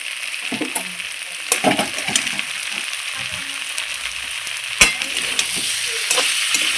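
Spice masala for a vegetarian jackfruit seed curry sizzles in a pan, with repeated spatula scrapes and stirring knocks against the metal, close and fairly loud, and no voices.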